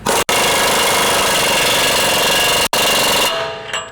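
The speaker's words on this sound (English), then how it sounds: "Now you can just go ahead and put your CV nut on there and just use your 36mm socket." Impact wrench tightening the CV axle nut on a RAM 1500 with a 36mm socket, a loud continuous rattling hammer broken by two brief pauses before it stops.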